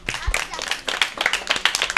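Children in a Ramadan children's show audience clap for the performers, a dense, uneven patter of many hands close by, filling the whole moment with no talk over it.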